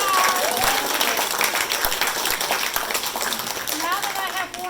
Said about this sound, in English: So take a minute to give yourselves a loud round of applause.